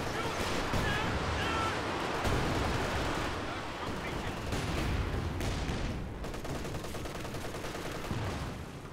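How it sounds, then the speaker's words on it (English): Rocket artillery firing in Company of Heroes 2 on the Port of Hamburg map: dense, rolling salvos and crackling battle noise fill the scene, with voices talking over the din. "firing rocket artillery behind it"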